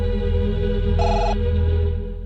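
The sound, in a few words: telephone ringing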